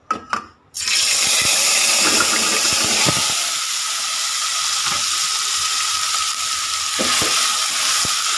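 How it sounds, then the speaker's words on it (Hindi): Goat meat dropped into hot mustard oil in a kadai bursts into a loud, steady sizzle after a brief quiet start, holding a dense crackling hiss close to the pan throughout with occasional sharper pops. "तो ये जो है ऑयल गर्म हो चुका है। अब मैं इस पर जो है ये गोश्त डालूँगी।"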